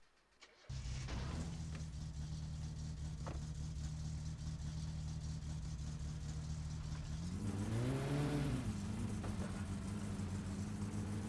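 A car engine in the video game My Summer Car drones steadily after starting, then revs up and down in a rising and falling sweep before settling back to a loud, constant idle.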